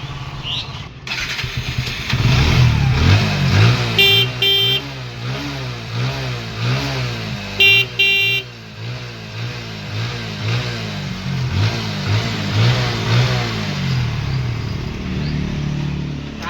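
A 2022 Bajaj Pulsar NS 125 motorcycle in good condition at a second-hand bike showroom is started up close, then revved in several sharp bursts before settling back to a steady, throbbing idle.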